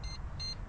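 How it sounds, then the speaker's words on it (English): Two short electronic key-in-ignition warning chimes from a Mazda RX-7, evenly spaced, faint and thin, over a low background hum. "sorry about the beeping the keys in there"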